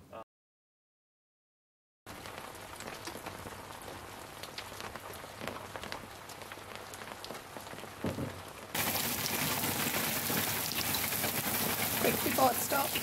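Heavy rain falls outdoors around a decked composting toilet and shower area, a steady dense patter of drops that grows louder and harder toward the end after a brief quiet start.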